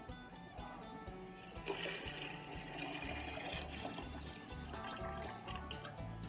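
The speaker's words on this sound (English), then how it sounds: "I'm going to add 8 cups of water" Eight cups of water pour steadily into a pot of rinsed lentils with a rushing, splashing sound, heard close and continuous, with no talking.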